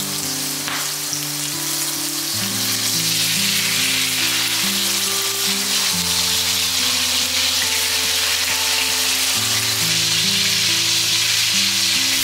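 Chopped scallions sizzle in plenty of hot oil in a wok with a pinch of salt, a steady, dense crackling fry heard close and continuous, with soft background music tones running beneath.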